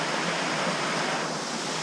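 Rushing water at the foot of a waterfall among rocks, a steady, loud broadband roar with no pauses, close by and with no voices over it.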